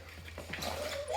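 Puppies at someone's feet letting out soft, faint whimpers and small yips in a short burst, close by and quiet.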